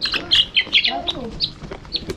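A chicken squawks and clucks in short, repeated bursts close by, with a few chirpy calls mixed in.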